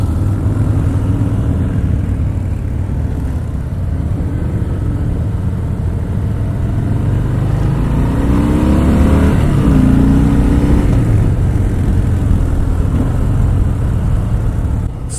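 A 2018 Harley-Davidson Sport Glide 107 motorcycle out on the road, its engine a steady, fairly loud rumble mixed with wind noise that swells a little mid-ride, no talking.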